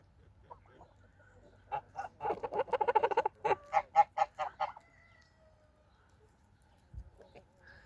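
A gander honks in a rapid run of loud, nasal calls, about a dozen in quick succession, then falls quiet with soft farmyard background.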